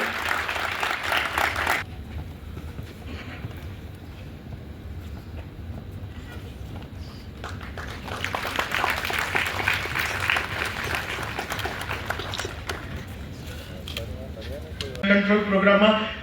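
An audience claps loudly in long bursts at a Lions Club of Pardi award ceremony honoring community service, with a speaker's amplified voice continuing over and between the rounds of applause.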